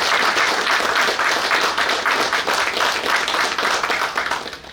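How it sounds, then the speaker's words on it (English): Clapping fills a graduation ceremony of Naval Warfare Course 9 at the Naval War College Nigeria, a dense, loud and sustained round of applause from a crowd. "May I request that we please appreciate them with a round of applause"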